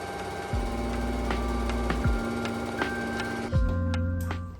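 A home sewing machine zigzag-stitches the raw seams of a pair of studio pants, giving a steady, close mechanical hum with a few periodic thumps as the stitching continues without pause.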